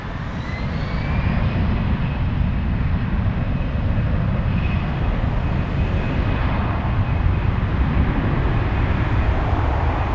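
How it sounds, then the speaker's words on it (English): A Japan Airlines Boeing 787 Dreamliner, flight 407 from Narita, arriving at Frankfurt; a steady, loud, broadband jet roar holds evenly throughout with a faint high whine running above it. "This is Japan Airlines 407 flying in from Narita."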